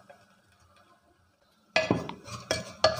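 A spoon stirs salt into hot oil in a pan while cooking Angamali-style pork, quiet at first, then a few sharp metallic clinks and scrapes against the pan in quick bursts.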